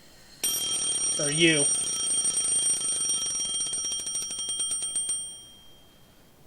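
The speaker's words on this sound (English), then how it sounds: "I shut off the alarm by reflex." An alarm clock in the video game Lucy and the Eternity rings with a bright, steady electronic trill for about five seconds before fading out, while a voice briefly speaks over it.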